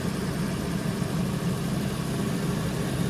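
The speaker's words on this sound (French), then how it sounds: "on entend la voiture qui change de régime" A car engine idles steadily at close range while an air conditioning system is being recharged, a constant low rumble with only slight shifts in revs.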